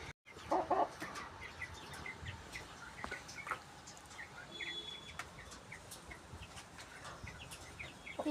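Large hens feeding on cooked rice and poultry feed near their cages, with soft clucks and bird calls scattered over steady barnyard background noise, a louder cluster of calls near the start.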